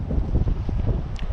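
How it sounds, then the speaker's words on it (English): Gusty wind at a Florida RV resort buffets the microphone with a low, rumbling roar that keeps going throughout, with no talking. "Kind of windy still."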